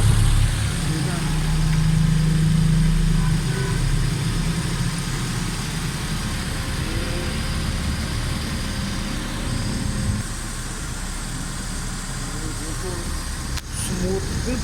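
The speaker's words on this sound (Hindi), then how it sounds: "बिल्कुल गाड़ी इंजन साउंड बिल्कुल ज़बरदस्त है" A 2020 Suzuki Swift with a head gasket and water pressure fault idles with its engine running. It gives a steady, smooth low hum close by, while someone talks over it.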